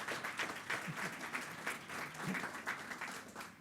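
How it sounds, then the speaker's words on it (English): Audience applause for the mayor of Newark at an evening speaking event, a steady broadband patter of many hands clapping throughout, moderately distant and sustained with faint voices mixed in. "Let's give another round of applause to the Mayor."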